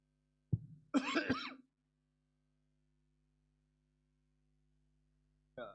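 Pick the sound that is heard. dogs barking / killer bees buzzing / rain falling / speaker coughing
speaker coughing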